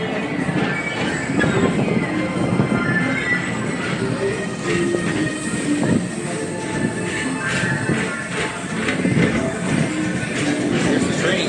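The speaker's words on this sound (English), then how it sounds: "Here's the train." A train runs alongside the People Mover at Disney's Magic Kingdom, giving a steady, continuous rumble and rolling clatter that holds level through the whole stretch.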